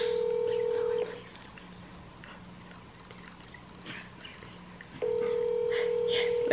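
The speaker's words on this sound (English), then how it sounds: "Let it ring, let it ring, let it ring." An outgoing phone call produces a loud steady ringback tone that stops, leaves about four seconds of quiet room noise, then starts again.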